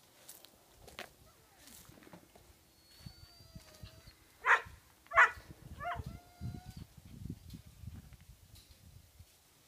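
A few high, sharp puppy barks and yips ring out, two louder ones near the middle, over footsteps and rustling in a quiet outdoor setting.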